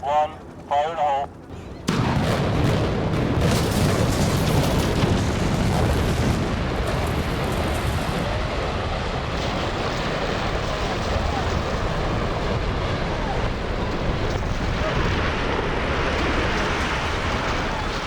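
Dynamite blasts demolish a building: a sharp initial bang after a short countdown gives way to a long, roaring, rumbling collapse and debris noise that stays loud and dense for many seconds.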